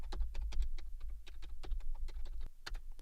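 Quick, crisp keystrokes on a computer keyboard type out a command in an irregular burst of close, soft clicks lasting a few seconds, with no voice.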